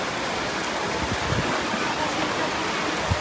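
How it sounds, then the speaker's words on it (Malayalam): Steady rain falls at Shoranur Junction railway station in Kerala, a dense continuous hiss of drops on surfaces with a few soft low thuds, heard alone and fairly close. "ശുഭപ്രതീക്ഷയായിട്ട് മഴ പെയ്യുന്നു കേട്ടോ"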